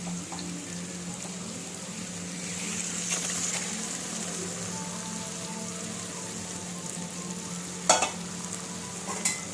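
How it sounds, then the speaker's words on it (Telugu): Eggs and masala frying in a pan for egg pulusu, a soft continuous sizzle with faint stirring, plus a couple of sharp scraping clicks near the end. "అలా వేపుకోండి. ఇలా వేగినప్పుడు వేయించిన గుడ్లు ఇందులో వేసేసుకోండి."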